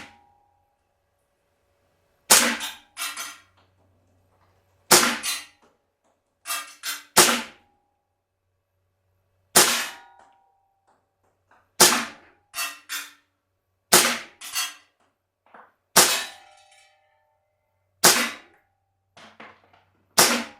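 A Sig Sauer 1911 Emperor Scorpion blowback CO2 BB pistol fires ten rounds outdoors, each a sharp, close crack with a quick metallic snap, spaced one to three seconds apart with silence between.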